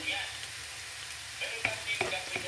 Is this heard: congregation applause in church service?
no